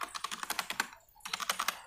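Rapid clicking keystrokes on a computer keyboard, a steady run of close, crisp taps that pauses briefly near the middle before resuming, heard alone without talk.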